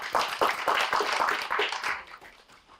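Audience clapping in a lecture hall to thank presenters after biology and sustainability talks, a brief burst of many hands that quickly fades out.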